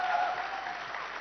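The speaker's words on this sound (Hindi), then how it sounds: "तालियां।" Audience applause at a live concert session following a rhythmic spoken tabla-style recitation, a steady dense wash of clapping from a crowd, fairly even in loudness throughout a short burst with no voices.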